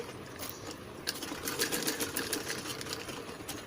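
A sewing machine runs fast, stitching a princess cut blouse, with a rapid mechanical chatter that starts softly and picks up into steady whirring bursts, close and fairly quiet.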